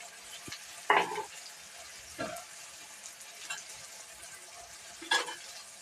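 Tomato and green chilli go into a hot frying pan with a fish curry, giving a low continuous sizzle with several short bursts of stirring and scraping at irregular moments, close by and without talk.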